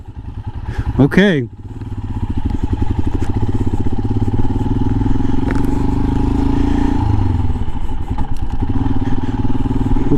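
A 2022 Royal Enfield Himalayan motorcycle being ridden, its engine a loud, close, steady throbbing drone that runs throughout, with a brief rider's exclamation over it near the start.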